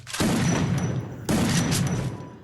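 Two loud bursts of rapid automatic gunfire from the Free Fire mobile shooter game, each roughly a second long with a brief gap between them, heard alone without talk.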